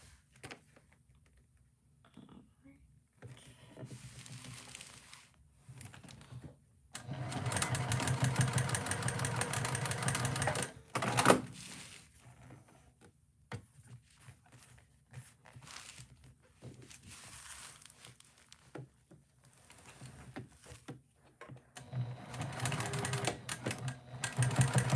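A sewing machine stitches a heart-shaped bag held with double-sided tape, running in bursts of rapid mechanical whirring with short pauses between runs, close by and fairly loud.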